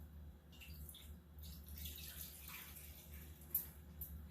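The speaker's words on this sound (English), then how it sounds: "Now we're going to get the water in there." Water pours steadily into the tank of a Murray lawn mower, a faint continuous splashing and trickling over low background hum.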